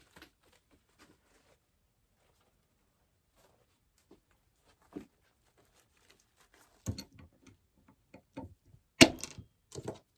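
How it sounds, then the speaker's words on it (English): Stem cutter snipping through flower stems while arranging a floral design, heard as a few sharp, close cracks and snaps scattered over mostly quiet moments, clustering toward the end. "Sorry for the noise, that is my stem cutter"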